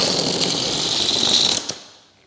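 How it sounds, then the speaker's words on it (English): Old air rushes out of a balloon in a continuous loud hissing, sputtering stream, close up, ending abruptly with a small pop-like tail before fading to quiet. "all the old air will come out of the balloon, which will sound like this."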